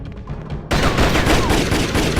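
Rapid bursts of gunfire in the Jet Li: Rise to Honor video game, opening after a quieter stretch and then continuing as sustained, loud, dense shooting to the end.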